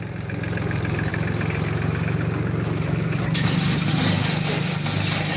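A diesel tractor engine idles steadily nearby, a low rhythmic chugging rumble with a brief shift in tone partway through.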